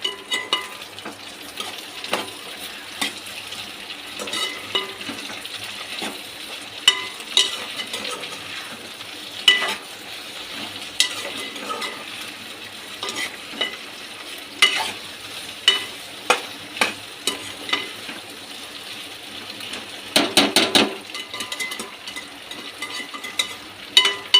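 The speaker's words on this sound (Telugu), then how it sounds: "బెండకాయలు వేసి బాగా మిక్స్ చేసుకోవాలి" Okra is stirred and fried in a pan for an Andhra-style okra and tomato curry: a constant close sizzle broken by repeated scraping and clinking strokes of the spoon, with a quick flurry of them near the end.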